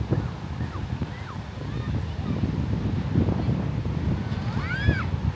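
Gusty seaside wind buffeting the microphone with a low roar near Penzance, faint bird calls or distant cries rising briefly above it.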